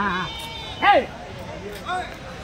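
Goats bleating at a busy Tuesday livestock market in Kadiri, two distinct loud bleats a second apart over steady crowd chatter and voices.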